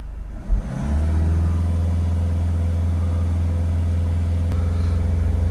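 A Citroen Relay 2.0 diesel van engine is held at raised revs, a steady, loud, droning rumble that settles in after a brief blip and holds evenly throughout.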